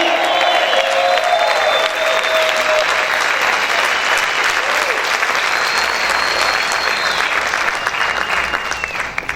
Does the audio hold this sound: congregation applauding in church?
yes